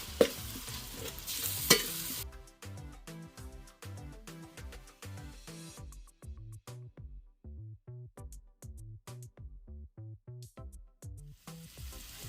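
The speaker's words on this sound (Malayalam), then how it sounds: "അത് നമുക്ക് അതിൻ്റെ പച്ചമണം മാറുന്നവരൊന്ന് ഇളക്കി കൊടുക്കാം." Fried onions with ginger, green chilli and garlic paste are stirred in a pan for a Malabar mutton dum biryani. Rhythmic scraping strokes repeat steadily over a soft sizzle, with no talking.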